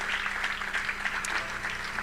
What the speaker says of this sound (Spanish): Dele un aplauso al Señor otra vez.